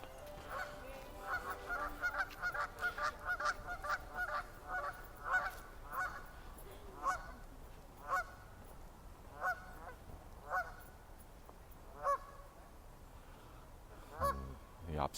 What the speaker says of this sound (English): white-cheeked geese